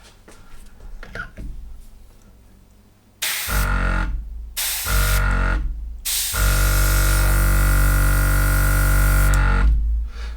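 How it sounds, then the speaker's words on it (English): A Gaahleri Serenair mini compressor runs loud and steady while the airbrush sprays, starting in bursts that cut in and out before settling into one sustained hiss and hum. "it's only actually making a noise when you've got the airbrush using air"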